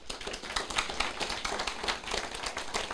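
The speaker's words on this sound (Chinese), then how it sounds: "我来给伊拍手一下" An audience at a Taiwan Civil Government session in a meeting hall breaks into applause, steady dense clapping from many hands at close range throughout, with no talk over it.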